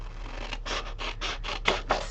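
Scissors cutting through a creative journal page with sticker bits on it: a steady run of about seven crisp snipping strokes in even rhythm, close and clear, with no talking.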